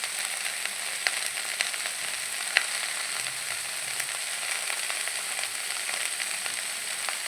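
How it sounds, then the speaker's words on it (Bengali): Turmeric, chili and cumin powders fry and get stirred in hot oil for a shrimp and Malabar spinach dish. Continuous soft sizzle with occasional light clicks of a utensil against the pan, close and steady, with no talking. "ভালো করে মশলার সাথে মশলাগুলো মিশিয়ে নেব"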